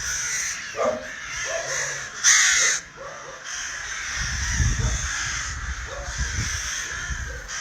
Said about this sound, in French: Et les oiseaux. En arrière-fond sonore toute la journée.